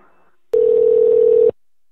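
A telephone line after an operator disconnects the call: one loud, steady electronic tone starts abruptly, holds for about a second, then cuts off into silence, with no voices over it.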